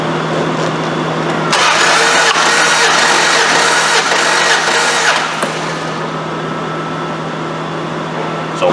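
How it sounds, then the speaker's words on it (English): A Dodge 4.7 engine cranks over during a compression test, a loud, even whirring burst of a few seconds that stops abruptly, leaving a steady background hum. "let's crank it up"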